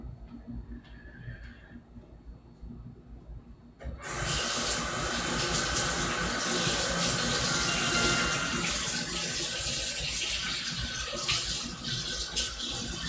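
Tap water gushes into a sink for washing skateboard bearings with dish soap, starting suddenly after a quiet stretch and then running as a steady, close, loud rush.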